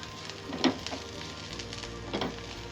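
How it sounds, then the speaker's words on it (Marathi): Sesame seeds roasting in a pan with hot fried onion, off the heat, giving a soft steady sizzle with two brief crackling pops, close and fairly quiet, with no talk. "कांदा गरम असल्यामुळं तिळही पटकन भाजले जातात"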